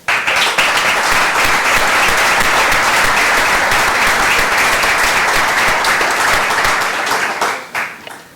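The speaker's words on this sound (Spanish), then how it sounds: "les damos un aplauso a ellos" Loud, sustained applause from a large crowd at a Doma Vaquera horsemanship event, steady throughout and tapering off at the end.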